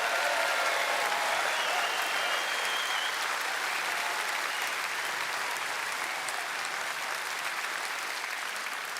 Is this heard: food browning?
no